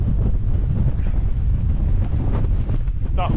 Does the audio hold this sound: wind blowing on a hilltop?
yes